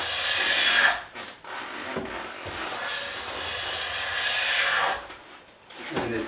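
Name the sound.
Stanley steel hand plane shaving wood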